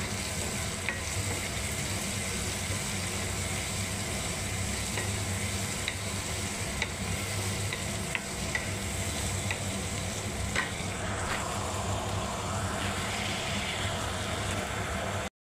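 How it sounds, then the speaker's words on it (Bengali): Tomato, onion and black cumin frying in oil as a base for Bengali fish curry, a steady close sizzle with occasional stirring scrapes, continuous throughout with no voices. "এখনও কষা হচ্ছে। এটা টমেটো, পেঁয়াজ, তেলের মধ্যে একটু কালো জিরে দিয়েছি বন্ধুরা"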